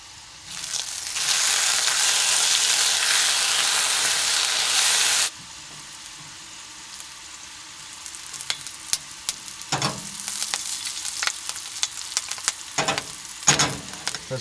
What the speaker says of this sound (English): First thing I'm gonna cook is the bacon, of course.